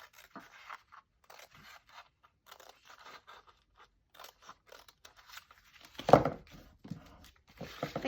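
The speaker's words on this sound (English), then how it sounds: "So I'm going to fold down this bit. This is the front. And I'm going to cut it." Scissors snip through paper being shaped into a decorated paper bag for a junk journal: soft, close cuts with one sharper crunching snip near the end, in an otherwise quiet room.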